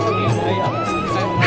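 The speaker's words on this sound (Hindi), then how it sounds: "फिलहाल भीड़ देखिए गाइस, इधर चारों तरफ भीड़ ही भीड़" Crowd at the Kalinka temple fair in India, a dense steady hubbub of many voices murmuring close around, continuous throughout.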